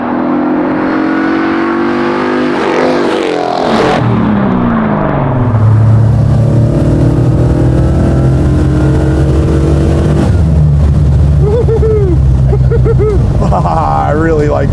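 A custom 426ci V8 in a 1970 Dodge Charger restomod with a 5-speed revs and accelerates loudly up close, pitch climbing through gears then settling into a heavy rumble, with people talking over it.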